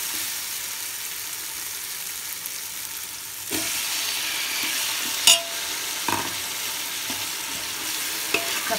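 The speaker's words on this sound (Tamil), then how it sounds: "இப்போ தக்காளி சேர்த்துக்கலாம்." Tomatoes for chicken biryani sizzle and fry in a pot, with a steady hiss that grows louder as they go in, then a few sharp scrapes and clinks of a spoon stirring against the metal.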